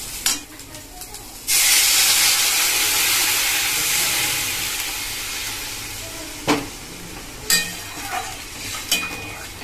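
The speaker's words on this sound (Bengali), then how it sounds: "তো এবার আমি দিয়ে দেব জল।" Water poured into a pan of moong dal and vegetables frying in oil bursts into a loud, steady sizzle that slowly eases off, followed by a few sharp clinks of a spoon against the pan.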